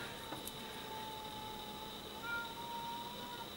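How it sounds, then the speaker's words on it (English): A cat meows faintly a few times over a quiet room hum with a steady high electrical whine. "my kitty is throwing a fit."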